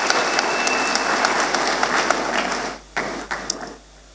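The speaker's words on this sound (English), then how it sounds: "A round of applause for all the graduating students." Graduation ceremony applause for graduating students, a dense, steady clapping from a large crowd that thins and fades out in the final second or so, with a few scattered claps at the end.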